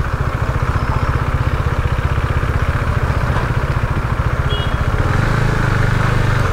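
A KTM Duke 390 motorcycle engine runs while riding, a loud, close, rapid rhythmic thumping throb that holds steady and then deepens into a fuller drone near the end.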